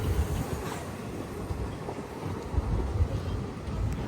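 The Repalle Express rumbles at Chellapalli railway station, a steady low roll of wheels and carriages close by with faint rhythmic clacks, running on without pause.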